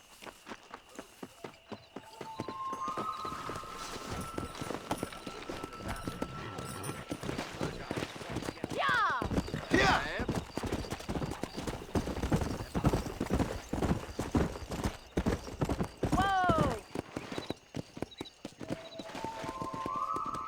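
Horse hooves clip-clopping at a steady, rapid gallop while riding in a video game, loud and continuous, with a couple of whinnies and a sweeping musical flourish partway through, no talking over it.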